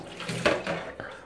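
Hot tap water rinses a bird tray used for goldfinches and canaries: a close, splashy gush over plastic with a few knocks of the tray being handled, brief and moderately loud.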